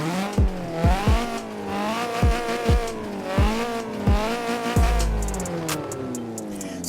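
A 1986 Ford Escort RS Turbo, a 1.6-litre 130 horsepower turbo car in Forza Horizon 4, revs up hard through repeated gear changes, each shift a sharp drop in pitch, ending with a brief tire squeal and chirps.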